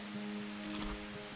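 Rain falls heavily outdoors on a glacial lagoon shore in Iceland, heard from inside a helmet as a steady, muffled wash of patter with no voices.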